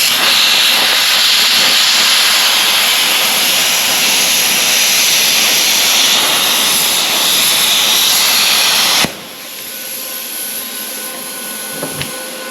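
A torch cuts through copper lines on an AC compressor, giving a loud, steady roaring hiss that stops abruptly near the end, leaving a quieter hum with a couple of sharp metallic clinks.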